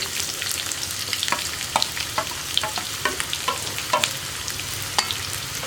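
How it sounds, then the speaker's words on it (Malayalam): Sliced onions and green chillies sauté in a pan for a spicy egg roast, a busy close sizzle dotted with sharp stirring clicks and scrapes, steady throughout with no talking. "ഈ സവോള ഒന്ന് നന്നായിട്ട് വഴറ്റിയെടുക്കണം."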